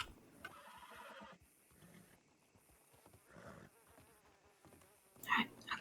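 A horse in a Wild West role-play video game whinnies and snorts amid game sounds and buzzing insects, with a louder burst near the end and a voice talking over parts.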